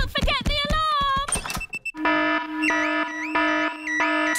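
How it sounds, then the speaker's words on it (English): A cartoon house alarm blares in a rising, pulsing electronic wail with a steady repeating tone pattern, loud and close, after a burst of clattering and a brief voice at the start. "Daddy Pig has set off the noisy house alarm."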